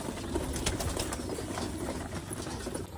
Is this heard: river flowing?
no